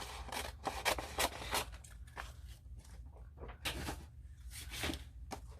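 Scissors cut through a brown paper bag in a series of crisp, close snips and crunchy paper rustles, alone and with no talking.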